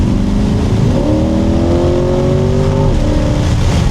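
A C8 Corvette engine revs loudly and close, its pitch climbing then dropping as the driver shifts, with a strong continuous growl throughout, on a backroad with the top down.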